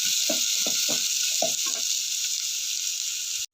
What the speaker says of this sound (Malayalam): അതിലേക്ക് അരിഞ്ഞ് വെച്ച ഉള്ളി ഇട്ട് കൊടുക്കാം. ഉള്ളി ഒന്ന് റോസ്റ്റ് ചെയ്തെടുക്കണം.